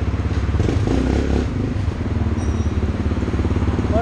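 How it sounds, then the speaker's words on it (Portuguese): Motorcycle fitted with a sport exhaust, a steady, loud, low engine rumble running through the whole stretch with slight rises and falls in the throttle, no talking. "Essa moto tá com escapamento esportivo."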